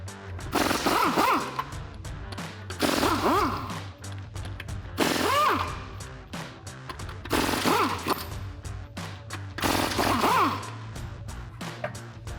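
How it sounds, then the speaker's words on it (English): A pneumatic impact gun rattles off the 22mm factory lug nuts of a 2008-2023 rear-wheel-drive Dodge Challenger in a garage. There are five loud, close bursts of hammering at regular intervals, each winding up and down, over a steady compressor-like hum. "Our factory lug nuts here are 22mm, so I got my impact gun."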